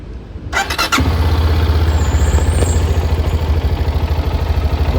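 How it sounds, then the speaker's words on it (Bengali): A CFMOTO 300SR motorcycle with about 1,068 km on it fires up close by: a brief starter whir catches, then settles into a steady, throbbing idle. No one talks over it. "এই let me just start it up for you all."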